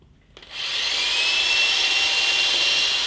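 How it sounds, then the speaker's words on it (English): A power drill with a standard bit bores a pilot hole into a wooden board for a bird feeder, a steady close whirring that starts abruptly and holds loud without talk. "then just a standard drill bit"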